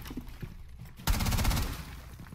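A short, sharp burst of gunfire in the tactical shooter Rainbow Six Siege, with a sudden loud onset midway and a quick rattle that tails off after a quiet lead-in.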